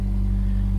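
A 2005 Subaru Forester engine idling just after start-up, with a steady low rumble and hum that stays close and constant throughout and no talking.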